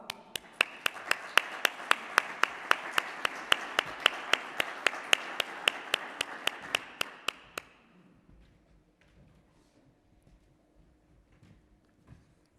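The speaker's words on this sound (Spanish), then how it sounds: "les recibimos con un fuerte aplauso, por favor" Audience at a municipal panel event greeting arriving guests from Santiago de Compostela, Getafe and Bilbao with applause, led by sharp rhythmic claps over a light wash of clapping that stops abruptly, leaving quiet room sound.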